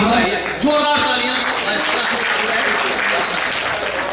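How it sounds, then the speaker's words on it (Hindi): Enthusiastic crowd applause at a Hindi-Urdu poetry gathering, a mushaira and kavi sammelan in Tilhar: dense, loud clapping from a large audience right after a brief voice at the start, sustained throughout. "जोरदार तालियां"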